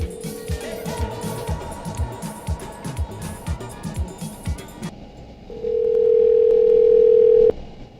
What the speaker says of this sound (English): It's ringing and ringing and ringing.